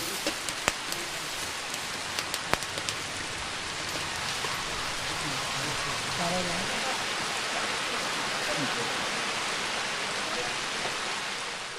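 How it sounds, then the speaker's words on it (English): Steady rain falls at a Hindu mela after weeks without rain, a dense continuous hiss with a few sharp drip taps near the start. The downpour sounds close and even throughout. "It's raining."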